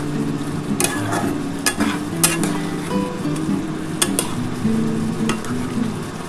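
Katla fish head and potato curry bubbling in a pan, a soft steady simmer broken by occasional sharp clinks of a spoon against the metal, close and moderately loud.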